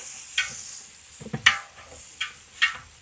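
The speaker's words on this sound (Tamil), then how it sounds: "வெங்காயம் வந்து நல்லா பொன்னிறமாகணும், அது வரைக்கும் நல்லா வதக்கி விட்டுக்கோங்க" Onions sautéing in a pan while being stirred, giving a faint steady sizzle punctuated by a few sharp clinks of a utensil against the pan.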